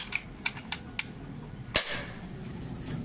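Close air rifle shot fired at a target: several light mechanical clicks from handling, then one sharp crack in the middle, over faint steady background noise.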